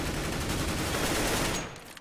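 Rapid automatic gunfire from a Counter-Strike esports match, a dense continuous burst of shots that holds for over a second and a half, then cuts off abruptly.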